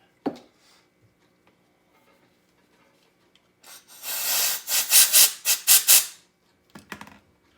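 Cleaner sprayed into the carburetor of a Honda XR100R, a few short hissing bursts up close after a quiet stretch, followed by a faint clatter.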